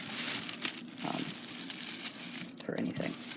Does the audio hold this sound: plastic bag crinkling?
yes